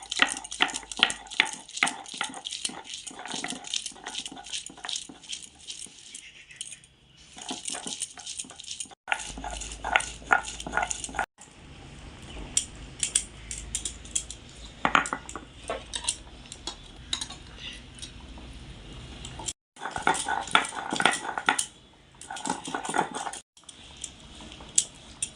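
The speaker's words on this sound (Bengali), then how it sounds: "রসুন, আদা, পেঁয়াজ একসাথে বেটে নেব।" Garlic, ginger and onion are ground together for a duck egg kalia, giving repeated rhythmic scraping and knocking strokes broken by short pauses, close and fairly quiet, with no talk.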